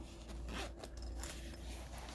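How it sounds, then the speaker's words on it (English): Short zipper pull on a Retroid Flip 2 slim fit case, a quiet close-up scratchy rasp lasting about two seconds with no one talking. "And the zipper on this one is actually a little cheaper feeling."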